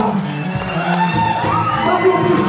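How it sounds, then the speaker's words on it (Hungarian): A crowd cheering and calling out as fashion show models take the stage, with music and a busy room underneath; the noise stays steady and moderately loud throughout, with voices mixed into the din. "nagy tapsot szeretnék a lányoknak"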